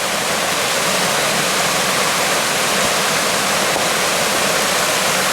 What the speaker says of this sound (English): Another cool little waterfall in the glen.